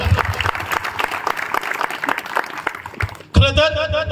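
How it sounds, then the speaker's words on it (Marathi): A crowd at a Sambhaji Maharaj birth anniversary lecture event claps loudly and steadily for a few seconds, then the applause cuts off as music starts. "जोरदार टाळ्या होऊन जाऊ देत यांसारख्या ग्रुपला."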